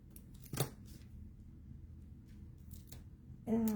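Scissors snip through card paper while a crafter assembles a baby card, giving one sharp, close cut and a few fainter snips over a low, quiet room hum. A voice enters briefly at the end.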